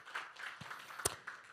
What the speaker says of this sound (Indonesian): Tepuk tangan yang meriah buat Allah kita